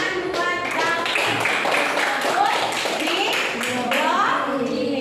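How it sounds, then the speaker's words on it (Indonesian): A class of pupils clapping for a classmate, a burst of many hands applauding steadily and close, with children's voices chattering over it. "Tepuk tangan buat Davin."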